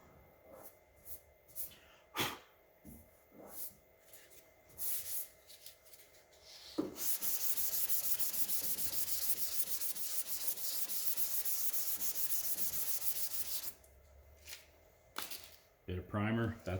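A sanding block rubs over filler repairs on a 1968 Pontiac Firebird body, giving a close, steady scraping hiss for several seconds, framed by scattered handling knocks and rustles.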